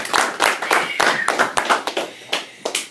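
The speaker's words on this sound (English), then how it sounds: "Let's give those guys a round of applause." A small audience claps in a training session on a cooling circuit, a sparse, uneven round of individual hand claps, fairly close, thinning out toward the end.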